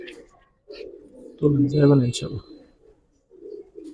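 Giribaz pigeons coo in a short burst near the middle, a low throaty rolling call close by, with someone talking before and after.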